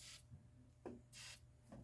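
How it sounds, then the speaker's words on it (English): Short bursts from an aerosol can spraying lubricant onto bolt threads on a 2009–2014 Ford F150 XLT upper control arm, three hissing sprays separated by brief pauses, close and fairly quiet. "I'm going to go ahead and spray some lubricant on the threads here"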